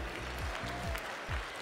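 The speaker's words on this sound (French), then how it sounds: "on applaudit donc, on réapplaudit, pardon, très fort le GAEC Alpin pour son premier prix de section" Audience at a Tarentaise cattle show clapping for a section's prize winners, a brief stretch of faint, scattered applause heard from some distance.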